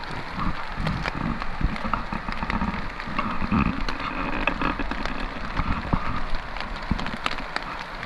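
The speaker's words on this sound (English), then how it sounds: "Дождь все-таки нас зацепил." Rain pattering on an umbrella during a motorcycle camping trip on the Mongolian steppe, a dense continuous patter of drops with scattered sharper taps, close and steady, no talking.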